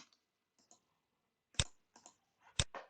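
Keys on a computer keyboard are tapped in short, irregular bursts, a few sharp louder clicks standing out among softer presses in an otherwise quiet room.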